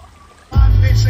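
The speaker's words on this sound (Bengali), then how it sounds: "এই লেকের জলটা এই সাইড দিয়ে আসছে, এই জলটা এই সাইড দিয়ে বেরিয়ে যাচ্ছে" Lake water flowing out beside a forest, a loud steady rush that starts abruptly partway in and continues as a dense, continuous wash.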